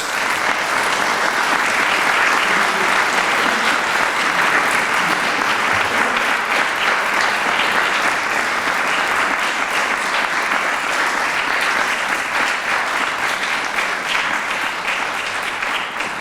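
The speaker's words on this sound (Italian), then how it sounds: "vi chiederei un applauso" Audience applause at a conference in Venice on the Rosetta comet mission, loud sustained clapping from a full hall lasting throughout, with no talk over it.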